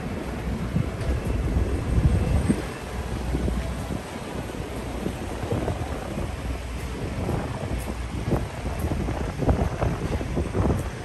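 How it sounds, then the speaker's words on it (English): Strong outdoor wind buffets the microphone near the water by Yokosuka Naval Base, a loud, continuous low rumble with gusts that swell and ease, and no talking. "Zuzushi, the wind is very refreshing, but it could be a little bit noisy"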